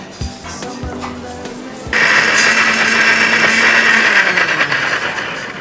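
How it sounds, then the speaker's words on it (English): A kitchen blender whirs as it blends pasta sauce. A rattling mechanical start gives way, about two seconds in, to a loud, sustained high-pitched whine that runs to the end. "So you're gonna blend this all up?"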